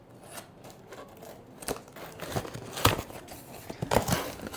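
A box of iPad accessories being opened up close, with scissor snips, crinkling packaging and tearing sounds coming in irregular bursts.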